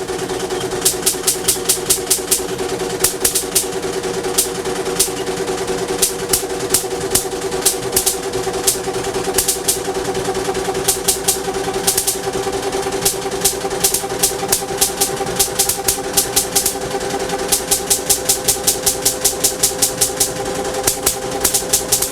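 An overloaded generator engine runs loud and steady, its drone broken by a rapid string of sharp pops and cracks that come in irregular bursts throughout, with no voices.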